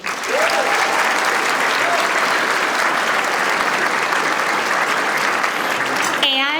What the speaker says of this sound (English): Please join me in a round of applause to our communications team